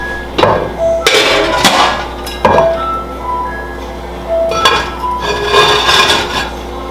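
A metal lid set onto a pot of lobster bisque simmering on the stove over medium-high heat, with a few clanks and scrapes standing out over a steady low hum.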